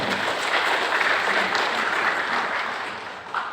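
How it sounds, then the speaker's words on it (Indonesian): A church congregation at a Christmas service claps together in a broad, steady round of applause that tapers slightly near the end. "Kita tepuk tangan."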